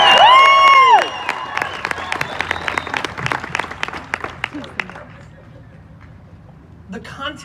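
Conference audience bursting into applause and cheers with whoops, loud at first and tapering off into scattered clapping, with a whistle-like tone at the start and voices mixed in.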